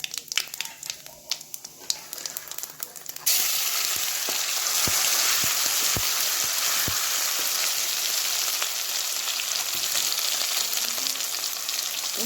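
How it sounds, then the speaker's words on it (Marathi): Ground gravy masala paste for chickpea curry hits hot oil with mustard seeds and cumin, bursting into a loud, dense sizzle that continues steadily, with faint taps of a stirring spoon. "मसाला चांगल्या पद्धतीने व्यवस्थित भाजून घेऊया 3 ते 4 मिनिट, जेणेकरून तेल सुटत तोपर्यंत मसाला परतवून घेऊया."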